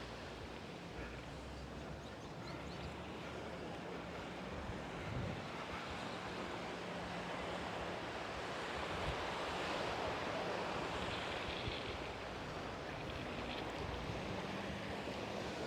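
Ocean waves rolling onto a beach in Aruba, a continuous broad wash of surf mixed with wind rumble against the microphone, steady and fairly loud with no speech.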